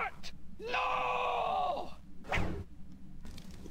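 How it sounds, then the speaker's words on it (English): A man's drawn-out dying groan from the Muppet Treasure Island film, a wavering strained vocal moan lasting about a second, followed by a short sharp cry and gasping breath, fairly quiet. "That is the sound of a dead man."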